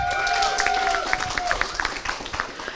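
A crowd applauds the winning Grizzlies team at the Battle for Glasgow 2022 event. The clapping is steady and moderately close, with a lingering tone from the venue behind it and talk over it.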